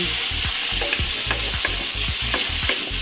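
Leftover lechon pork sizzles loudly in a pan with soy sauce, close up, with a steady hiss and a regular rhythm of spatula scrapes and clacks against the pan, and no voices.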